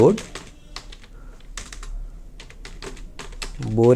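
A computer keyboard is typed on while entering text in graphic design software, with quick bursts of clicky keystrokes close by, and someone speaking briefly at the start and end.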